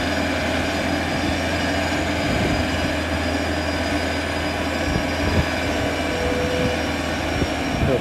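A 2015 Genie GTH636 telehandler with about 1950 hours runs at a steady idle nearby, a continuous low engine drone with a constant hum that holds level throughout, with no talk over it.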